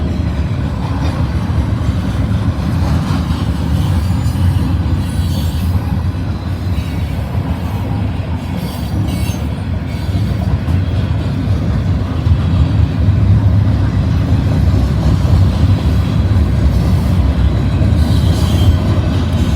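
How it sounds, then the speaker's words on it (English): A freight train with loaded gondola cars rolls past close by. Its heavy rumble is loud and unbroken for the whole stretch, with wheel squeal and rail clatter on top and no voices. "I saw the train coming"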